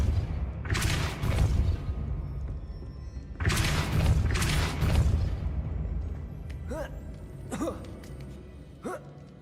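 Depulso spells cast in Hogwarts Legacy land as two heavy, booming magical blasts with rushing noise, close and loud, followed by softer sighing and gasping character voices.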